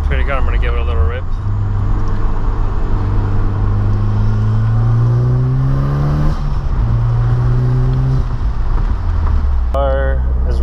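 Turbocharged Mitsubishi Evo X engine revved up from idle, rising to a loud roar, easing back, then climbing again, close up, with brief talk at the start and end.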